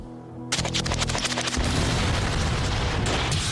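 Real firearms firing live rounds: a quick burst of sharp gunshots, then a dense, continuous roar of rapid fire that stays loud throughout.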